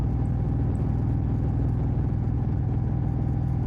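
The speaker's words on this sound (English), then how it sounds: "Just me and the engine." Motorcycle engine on a quiet road at night, a steady mid-pitched rumbling drone holding an even, continuous note throughout, with no voices.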